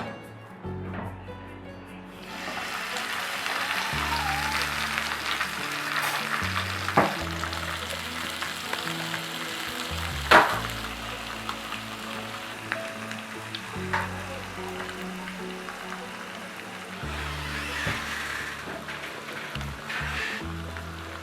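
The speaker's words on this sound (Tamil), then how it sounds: "இப்போ வெந்த மட்டனை வந்து தனியாக தோசை தவாவில் நம்ம ஃப்ரை பண்ண போகிறோம்." Boiled mutton pieces frying in oil on a dosa tawa, a loud steady crackling sizzle close by with occasional stirring clanks and sharp spatters, no speech.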